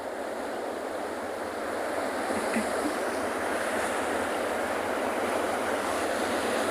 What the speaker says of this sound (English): So we'll just have a look at those waves coming in.